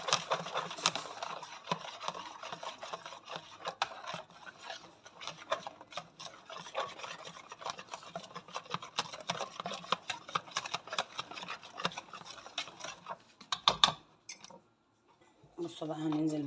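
Dough being stirred in a bowl, a soft continuous scraping and rubbing that runs steadily and fairly quietly before briefly stopping near the end, with someone talking over it.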